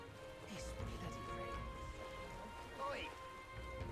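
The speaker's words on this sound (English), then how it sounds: "Oh, it's storming." A rainstorm in the video game Metaphor: ReFantazio hisses as a soft, steady wash of falling rain behind a voice speaking over it, quiet and continuous throughout.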